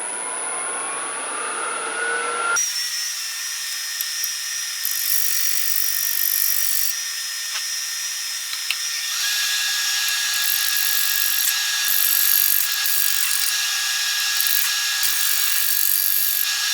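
A lathe turns a cherry bowl while a gouge cleans up the tenon area. The result is a steady, loud high-pitched whine and hiss of wood cutting that runs continuously with slight shifts in tone, and no talking.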